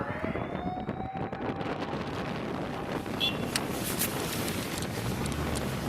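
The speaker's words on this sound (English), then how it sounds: "You hear the sirens?" Tsunami warning sirens wail across a Japanese coastal town during the tsunami, their long rising tone distant and steady beneath heavy wind rumbling against the microphone.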